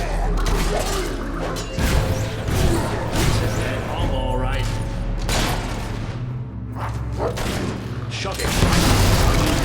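Gunshots and booming impacts from the video game Fable III ring out amid a busy battle soundscape with crashes and mechanical clatter, while characters speak over the action.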